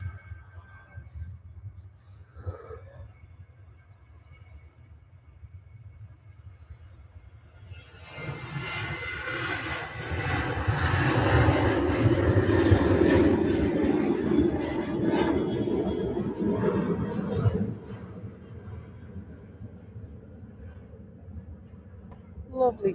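A Ryanair jet departs Manchester Airport, its engine roar swelling from a low rumble to a loud, broad wash that peaks midway and then slowly fades.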